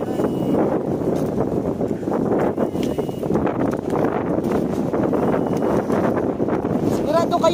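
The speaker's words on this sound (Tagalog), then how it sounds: "ang lakas ng hangin dito" Strong wind gusts buffet the microphone at an outdoor deer farm, a continuous rough rumble that never lets up while a person talks over it.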